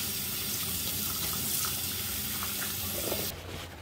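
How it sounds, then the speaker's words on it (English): A washing machine filter from a Samsung washer is rinsed under a running kitchen tap, giving a steady, close splashing stream of water that drops off sharply near the end as the flow is cut. "I'm going to just rinse this under a tap."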